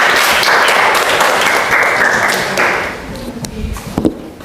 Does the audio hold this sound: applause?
yes